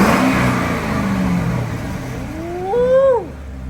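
A classic Chevy with an LS-swapped Corvette engine revs up loudly nearby, the pitch climbing in a short rising sweep before dropping off, with steady engine rumble underneath.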